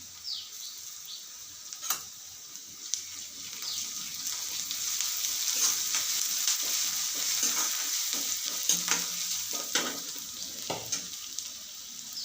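Garlic paste frying in a pan for a moong dal dish makes a steady sizzle, broken by occasional scrapes and knocks from stirring, with no voices present.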